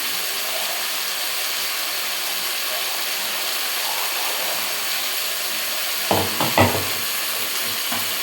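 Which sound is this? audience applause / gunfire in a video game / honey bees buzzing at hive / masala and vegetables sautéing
masala and vegetables sautéing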